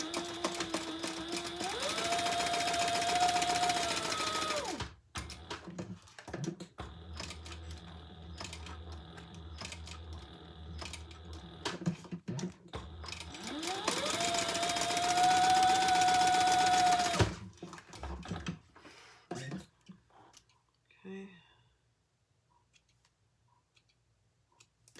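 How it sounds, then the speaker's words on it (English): A sewing machine stitches down the sides of a leopard-print and black crossbody bag in two long, steady runs of rapid, whirring stitching, with a quieter stretch of small clicks and handling between them. "I'm just going to sew down the sides."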